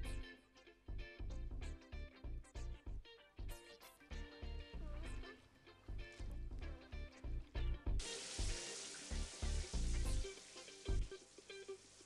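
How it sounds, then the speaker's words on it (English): Sediment samples rinsed with running seawater through a sieve with a 1 millimeter mesh, a rushing splashing flow with rhythmic sloshing and knocks, turning into a steadier hissing stream in the last few seconds. "The organisms are immediately separated from the sediment by rinsing them with running seawater through a sieve with a 1 millimeter mesh"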